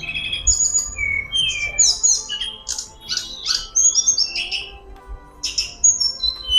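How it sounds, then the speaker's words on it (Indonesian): An oriental magpie-robin (kacer) sings alone in a long run of varied whistles, chirps and trills, close and clear over faint background noise. "Ini burung kacer yang kemarin teman-temanku ya, hilang vektor."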